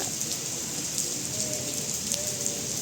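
Steady rain pours down outdoors, a dense even hiss of falling drops with occasional louder patters nearby.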